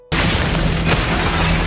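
A building blows up in an Indian action film, a loud, dense roar of blast and falling debris that fills the whole clip from a sudden onset with a sustained low rumble throughout.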